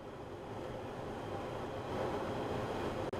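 Steady roaring wind rushes over everything in a constant, loud buffeting noise during a gusty paraglider flight, with no voices and a brief dropout near the end.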